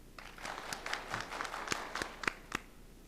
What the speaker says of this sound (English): if you'll join me in showing our friends and families our appreciation with a round of applause, please